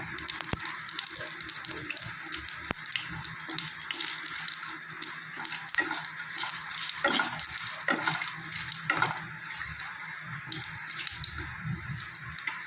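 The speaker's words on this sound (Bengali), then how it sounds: "তেল গরম হয়ে গেছে, তেলের মধ্যে দিয়ে দিব কালো জিরে কয়েকটা, সাদা জিরে" Nigella and cumin seeds sizzle in hot mustard oil in a pan, a steady close crackling hiss with scattered sharper pops, continuing without talk.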